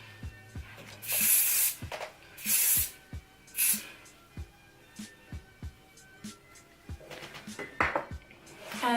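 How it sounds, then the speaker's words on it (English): Hairspray hisses onto clipped-in hair extensions in three or four short bursts, with light clinks and handling knocks scattered between the sprays, all close by. "obviously just pop a bit of hairspray"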